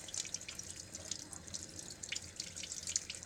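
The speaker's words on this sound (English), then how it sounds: "all you're going to do is you're just going to knead it" Fresh churned butter being kneaded by hand in cold water, close soft wet squishing and sloshing with faint splashes, steady and quiet with no talk.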